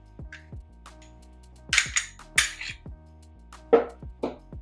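Metallic clicks, snaps and sliding clacks of a Smith & Wesson M&P Compact pistol being field stripped, with its magazine removed and chamber empty; several sharp close clicks and a few louder clacks, no talking.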